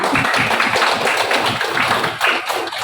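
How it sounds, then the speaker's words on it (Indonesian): A classroom bursts into applause for a student. Dense, steady clapping from many hands fills the room for the whole stretch, with no voices over it. "Oke, berikan aplaus untuk temannya"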